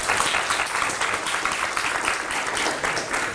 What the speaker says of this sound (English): help introduce Congressman Peters with a nice round of applause